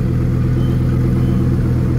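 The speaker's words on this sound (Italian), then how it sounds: "Sentiamo il V10." A loud, deep V10 engine rumbling steadily nearby, a powerful car motor idling with a rich, throaty low drone and no speech, at a Dubai valet parking area.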